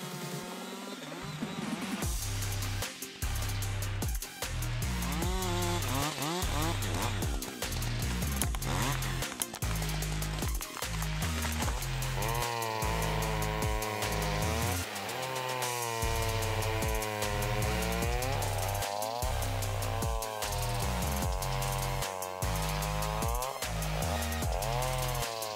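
A big forestry chainsaw cuts through wood with a loud engine snarl. It revs repeatedly and bogs under load, then runs in long, rising and falling sweeps of sustained cutting, with no voices.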